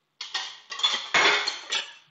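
Shrimp broth poured back into a cleaned metal cooking pot, with several quick clanks and scrapes of metal against metal over about two seconds, close and fairly loud.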